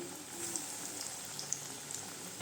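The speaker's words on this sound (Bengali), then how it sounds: "এবারে তেলও গরম হয়ে গেছে, দিয়ে দিলাম একটা" Chicken nargis kebab dropped into hot oil sizzles and fries with a steady, faint bubbling hiss and occasional tiny pops, close by and without speech.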